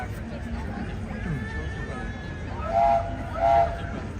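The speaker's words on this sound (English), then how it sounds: "I hear the train, so that's good." Disneyland railroad train in the park, with two short whistle-like toots near the end over steady crowd chatter and park ambience, moderately distant.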